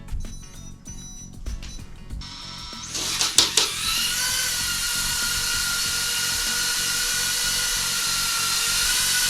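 A BetaFPV Air 65 FPV drone flying indoors in an apartment: after a few clicks and scrapes, its tiny motors spin up into a loud, close, high-pitched whine that holds steady to the end.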